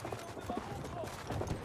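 Horse hooves clip-clop in a World War One battle in Battlefield 1, a quick run of near hoof beats mixed in with people talking.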